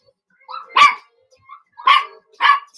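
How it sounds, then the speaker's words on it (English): A dog barks nearby indoors, three or four sharp, loud barks spaced irregularly, with short yips in between and no other sound. "Hey, Jay, stop making her bark"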